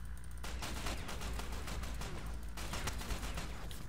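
Rapid automatic gunfire in the Ghost Recon Online video game, a dense string of sharp shots in quick bursts, fairly close and steady throughout, with no talking over it.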